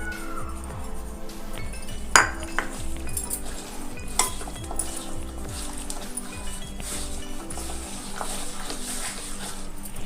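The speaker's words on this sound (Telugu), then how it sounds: "ఇప్పుడు ఉల్లిపాయ ముక్కలు వేసుకొని కలుపుకుందాము." Spoon stirring onion pieces and salt into a chicken curry in a metal pot, with scattered clinks and scraping over a background hum and faint music.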